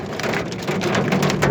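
Walnut-sized hail pounds a car's body and glass, a loud, dense, continuous drumming of hard impacts with no pause, heard from inside the vehicle.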